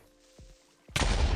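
Creepers blowing up in Minecraft: after a quiet stretch with a few falling whooshes, a sudden loud explosive blast bursts in near the end and roars on as a sustained rumble.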